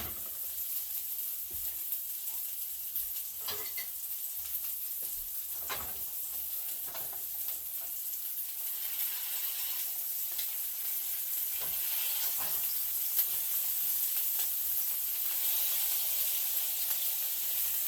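Potato cheese patties with butter sear steadily in a frying pan, a constant crackling sizzle with scattered sharper pops and scrapes, growing slightly louder toward the end, with no voices.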